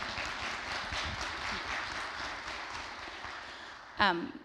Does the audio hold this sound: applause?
yes